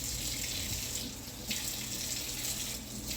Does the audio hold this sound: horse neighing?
no